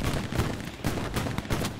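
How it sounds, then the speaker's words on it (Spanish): Rapid gunfire from an online World War II shooter game, Hell Let Loose, with dense overlapping shots in close bursts, loud and continuous with no voices. "estoy disparándole a los nazis y no se mueren"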